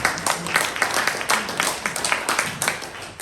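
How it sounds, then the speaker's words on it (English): A small pub audience at a political talk night gives a round of applause, a moderate patter of individual claps rising and falling over a few seconds. "yes, round of applause."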